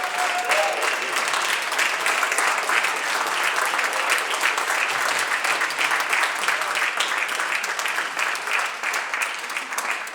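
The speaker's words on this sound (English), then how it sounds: "If we could have a round of applause for all of our honorees." A full round of applause for a group of honorees at a legislative floor presentation, loud and continuous clapping throughout with a faint murmur of crowd underneath.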